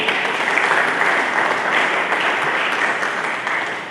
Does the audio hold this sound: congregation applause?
yes